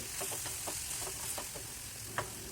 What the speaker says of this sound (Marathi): एक ते दोन वेळा या पद्धतीने भाजी तुम्ही मिक्स करून घ्या